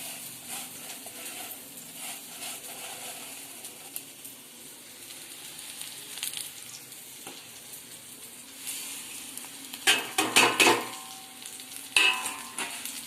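Wheat sev and coriander are stirred into a pan on low flame, giving a soft, steady sizzle with scraping spoon strokes and a few louder clinks against the pan near the end.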